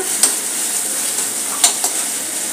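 Veg Manchurian is stir-fried in a pan with sugar and vinegar, giving a steady, fairly loud sizzle. A few brief clinks of a spoon or spatula against the pan stand out above it.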